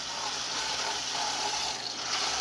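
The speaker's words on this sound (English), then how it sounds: "You wash this knife off." Tap water runs in a steady, even stream into a kitchen sink as a knife is rinsed off after cutting a chilled chocolate cake, continuous and close with no talking.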